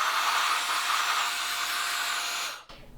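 Small electric blower drying washed Nintendo 64 console parts, a steady loud airy whoosh that runs for over two seconds and then cuts off abruptly.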